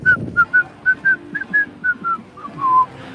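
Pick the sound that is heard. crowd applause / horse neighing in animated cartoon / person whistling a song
person whistling a song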